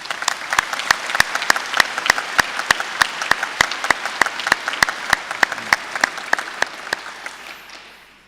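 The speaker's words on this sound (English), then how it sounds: "So let's give Rohana another round of applause." Applause at a university PhD graduation ceremony: sharp, evenly spaced claps in a steady rhythm that sound close and fairly loud, running for several seconds before fading out.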